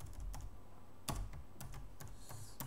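Code being typed on a computer keyboard during microcontroller programming in Visual Studio with PlatformIO: a steady run of close, quiet key clicks with a few louder clacks, like the space or enter key, and no speech.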